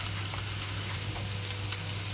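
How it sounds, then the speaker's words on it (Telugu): Soaked chana dal tipped into softened onions in a hot pan, giving a steady, close sizzle and frying hiss throughout with no speech. "ఇప్పుడు ఇందులోనే నానబెట్టుకున్న పచ్చిశనగపప్పు వేసేసుకుంటున్నాను."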